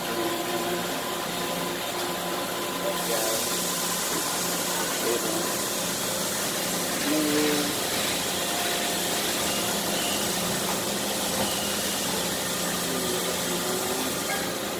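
A Mazak VCN-501C vertical machining centre running with its spindle on, a steady loud mechanical hum and whine with faint tonal shifts, and people talking nearby.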